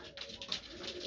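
Brief, faint cooing from colored male pigeons, a few soft low calls heard alone with quiet room noise.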